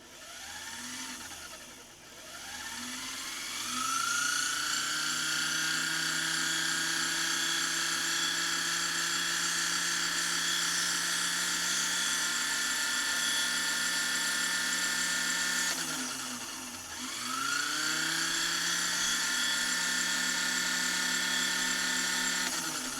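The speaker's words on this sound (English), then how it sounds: "Simulate winding a bobbin. Bobbin tire up against the balance wheel." The motor of a 1952 Singer 301 sewing machine, bobbin tire pressed against the balance wheel, whirs up to a steady high whine, holds for several seconds, slows briefly, then spins back up.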